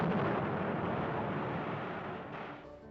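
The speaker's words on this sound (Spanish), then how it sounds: "Se escuchan explosiones de dinamita." Dynamite blasting in the Bilbao iron mines, a heavy, dense rumbling roar that sustains and slowly fades, sounding like a distant, muffled explosion on an old recording.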